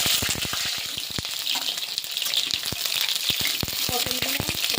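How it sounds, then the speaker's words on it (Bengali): Pointed gourd pieces fry in oil with black cumin in a wok, a close, steady sizzle with crackling pops throughout. "এবার পটলগুলো ভাজা হতে থাকুক"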